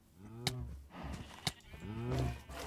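Cows in the Minecraft Valhelsia 2 modpack moo close by, two drawn-out lowing calls with sharp clicks between them, moderately loud with no talk.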